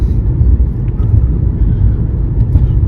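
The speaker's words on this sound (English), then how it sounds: "So quite a bit of traffic this morning, people obviously going to work, some trying to break through." Steady low road rumble from inside a car moving through morning commuter traffic on a long drive in Thailand, a constant engine and tire drone with no voices.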